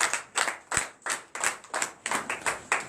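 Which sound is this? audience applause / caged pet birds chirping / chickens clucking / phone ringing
audience applause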